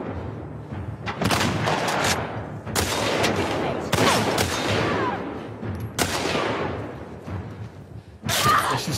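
Rifle gunshots in The Last of Us Part 2 on PS5, a series of loud sharp cracks spaced irregularly across the span, each with a short booming tail, with no talk over them.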